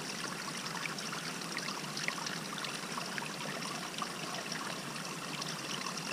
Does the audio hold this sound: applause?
no